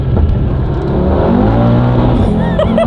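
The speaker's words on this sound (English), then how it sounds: "So obviously we're keeping to the speed limit here, but accelerating to it quick." A 500bhp Audi TT RS accelerates hard on a public road, its engine droning loud and steady with rising harmonics throughout, heard from close by with no talk over it.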